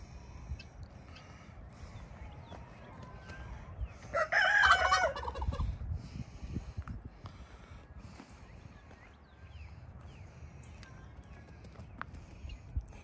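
A rooster crows once from a short distance, a loud drawn-out call rising over quiet outdoor background noise.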